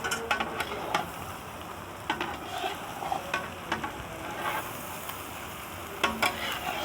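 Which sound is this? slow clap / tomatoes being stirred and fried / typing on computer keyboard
tomatoes being stirred and fried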